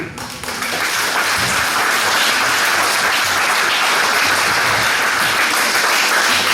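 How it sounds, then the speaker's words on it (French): Sustained applause from an audience at a judo club's 30th anniversary celebration, dense steady clapping that swells in the first half second and holds loud and even throughout. "c'est un applaudissement qui vient du fond du cœur"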